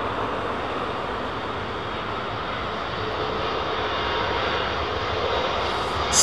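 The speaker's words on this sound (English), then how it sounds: "Smart looking lofty jet." Jet airliner engines roar loud and close at London Heathrow Airport, a continuous heavy rumble that swells slightly over several seconds with no talk.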